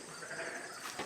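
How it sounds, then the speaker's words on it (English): Sheep bleat faintly in the background of a homestead sheep barn, a single soft, wavering call that is brief and distant. "And you can hear the sheep in the background."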